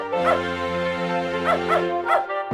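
A dog in the video game Beneath a Steel Sky whimpers and yelps after falling into a lake, with several high, wavering cries against a steady background music drone.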